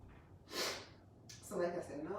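A few close, breathy allergy sniffs, short nasal bursts of air separated by brief pauses, with a faint voice murmuring near the end.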